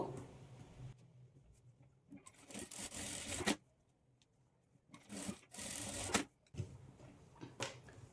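Sewing machine stitching darts into a blouse, running in two or three separate bursts of rapid whirring with quiet pauses between them, close by and fairly faint, with no talk.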